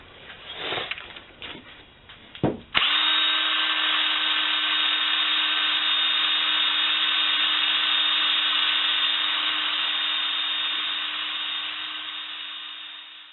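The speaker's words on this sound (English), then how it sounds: "I'm going to use a wire brush mounted in a drill." A few brief rustles, then an electric drill fitted with a wire brush spins up on an axe head and runs with a steady high whir for about ten seconds, gradually easing off.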